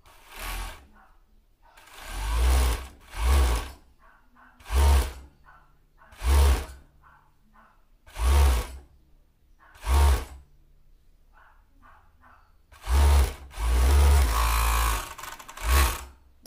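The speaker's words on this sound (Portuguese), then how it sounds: "Fechar ela aqui na overlock," Overlock sewing machine closing the brim seam of a short-brim cap visor, running in about a dozen short separate bursts with brief pauses between, close and moderately loud, with a longer run near the end.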